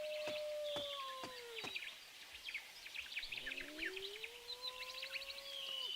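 Living birds on a video game island call and chirp in a busy, overlapping chorus, with sharp repeated tweets and sliding whistles, fairly close and steady, heard over a low ambient background.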